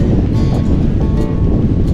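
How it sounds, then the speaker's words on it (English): Gusty wind blasts over open lagoon water during windfoiling, a constant low roar with brief hissing bursts of spray or microphone buffeting, no voices. "And there we go, it's super windy now."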